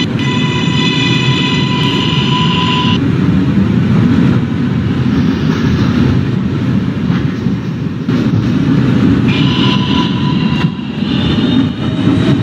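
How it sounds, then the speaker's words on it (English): Subway Q express train departing, a loud, close, continuous rumble and roar, with steady high tones at the start and again near the end. "This is a Potato Brook bound Q Express train."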